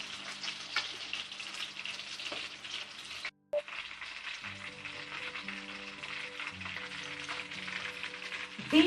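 Quail deep-frying in oil over a low flame, a steady close sizzle that cuts out for a moment partway through, then resumes evenly until the end.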